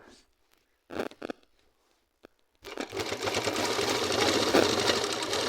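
A sewing machine stitching a petticoat: a few short bursts of stitching, then a steady continuous run of needle clatter and motor hum close by, with no speech.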